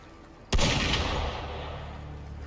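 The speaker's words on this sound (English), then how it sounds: "Gunfire!" A single sharp, loud gunshot in the video game Wuthering Waves cracks out, followed by a long rumbling echo that slowly fades.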